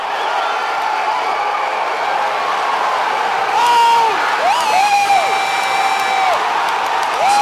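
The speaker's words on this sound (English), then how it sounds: "The crowd at Mission Control, jubilant." A crowd at SpaceX Mission Control cheers after a Falcon rocket landing, with loud whoops, whistles and applause rising midway and continuing under a steady background of voices.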